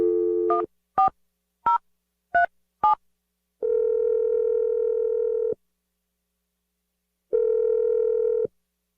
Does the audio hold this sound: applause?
no